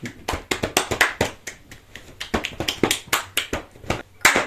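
A small group claps in loose, uneven bursts during a horror movie tournament game, with sharp individual hand claps and taps scattered rather than in steady rhythm, fairly close and moderately loud.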